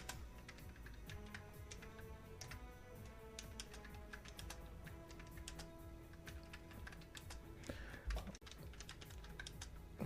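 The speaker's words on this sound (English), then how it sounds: "You can hear me clicking" Rapid, continuous clicking on a computer keyboard, close and steady throughout over a low background hum, with a brief thump near the end.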